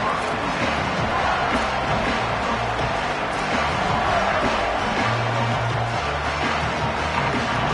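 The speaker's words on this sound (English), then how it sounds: "This crowd ready to make its presence known" A roaring stadium crowd at an American football game fills the air with a dense, continuous wall of cheering and shouting, steady and loud throughout.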